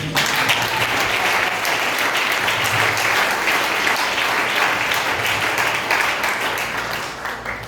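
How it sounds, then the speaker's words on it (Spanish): A church congregation claps and applauds during a Sunday service, a dense, steady wash of clapping from many hands that holds loudly throughout and eases slightly at the end. "Aplausos, Señor."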